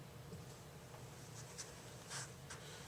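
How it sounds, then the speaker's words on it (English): Marker or chalk scratching across a board while writing parentheses and plus and minus signs for an algebra factoring problem, faint, soft strokes with a few brief squeaks over steady room noise. "So we're going to write our parentheses, put our plus and minus."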